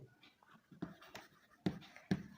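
During a maths lesson, someone writes on a board. The quiet, scratchy strokes are close and faint, with a few sharper taps along the way.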